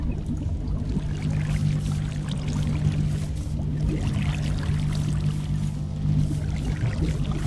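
Water pouring in the Minecraft video game: a steady, continuous rushing flow that fills the whole stretch evenly with no pauses, and no voices over it.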